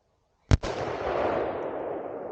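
A single loud AR-15 rifle shot at an outdoor shooting range, a sharp crack with a quick double-edged onset followed by a long rolling echo that fades slowly.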